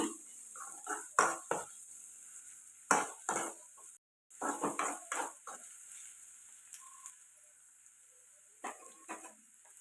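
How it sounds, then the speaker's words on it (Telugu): Onions fry in a pan, heard as a faint hiss under intermittent bursts of stirring and clattering utensil scrapes, with a brief dropout midway and quieter stretches between strokes. "ఉల్లిపాయలు వచ్చేసి బాగా ఫ్రై అవ్వాలండి"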